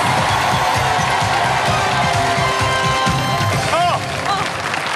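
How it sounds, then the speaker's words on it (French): A studio audience at a French TV game show claps and cheers for two teams, blue and white. The applause is loud and sustained across the clip under a host's voice, and a bright musical jingle cuts in near the end. "Deux équipes, je vous demande de les applaudir très fort."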